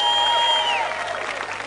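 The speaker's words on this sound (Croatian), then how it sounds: "pozdravite ga velikim aplauzom" Audience applause greeting guitarist Vlatko Stefanovski at the Jelen Demofest final: dense, steady clapping from a large crowd, loud and close throughout, with a brief whistle at the start.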